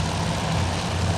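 A burning aircraft in the naval air combat game Task Force Admiral gives off a steady, droning engine roar, loud and unbroken throughout.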